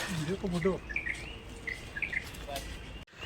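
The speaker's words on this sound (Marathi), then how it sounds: "पक्ष्यांचा आवाज" Birds sing in short high chirping phrases over a soft background of insects, with a brief voice near the start, at Karnala bird sanctuary.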